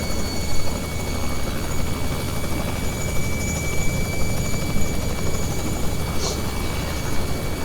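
A Robinson R66 turbine helicopter in flight: a steady, loud turbine whine and rotor drone that fills the whole clip, with no talking.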